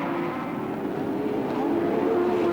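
Touring race cars in the 1983 Australian Touring Car Championship at Oran Park, with Brock and Moffat charging past, their engines a steady droning roar that builds slightly as they approach.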